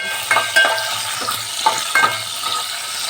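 Mustard seeds, curry leaves and finely chopped garlic sauté on low flame for a dal tempering, a steady sizzle with several sharp spoon-stir clinks and scrapes against the pan, close and alone.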